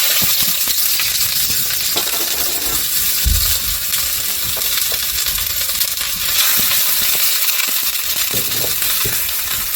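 Onion frying in vegetable oil in a wok, with a steady broadband sizzle and crackle throughout and occasional clinks and stirring knocks.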